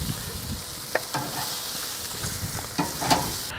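Pork belly sizzles on a hot Hasty Bake grill, a steady close frying hiss broken by a few sharp scrapes and clacks as the pieces are moved and flipped.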